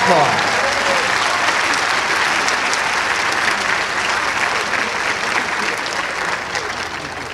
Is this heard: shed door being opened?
no